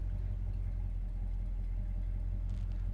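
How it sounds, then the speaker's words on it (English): A 1967 Chevrolet Chevelle SS convertible with a big-block engine idles steadily, a deep continuous rumble heard close and alone throughout. "Just started up the car."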